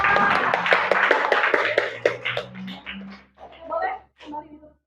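Students in a mathematics classroom clap for a presenting group, a brief ragged burst of close hand claps that quickly dies into scattered claps, with talk in the room.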